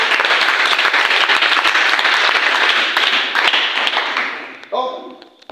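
A worship congregation applauding, dense loud clapping from a crowd that holds steady then fades out over several seconds, ending with a brief voice.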